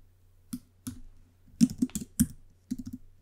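Bursts of computer keyboard typing, several quick clustered keystrokes separated by short pauses, close and crisp against a quiet background.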